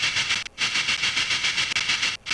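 Distorted microphone noise used as a drum-group effect: a harsh, bright hiss-like buzz that pulses steadily, with brief dropouts giving it a choppy rhythmic feel, loud and up close.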